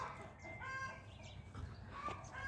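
Farmyard chickens cluck softly and intermittently at a distance, with several short calls overlapping in a quiet outdoor setting.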